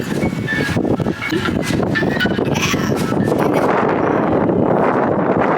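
Strong wind roars and buffets steadily throughout outside an IKEA store, a loud, continuous rushing noise with gusty rumble and no voices.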